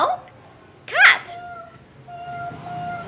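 A young child imitates a cat's meow with one short, high, rising cry, set apart from the quieter talk and room noise around it.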